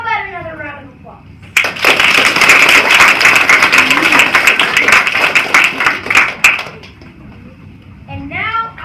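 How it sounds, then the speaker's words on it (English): Steady audience applause fills a school drama performance hall for several seconds, dense and fairly loud, with a voice talking briefly before it starts and again as it fades out. "How about another round of applause?"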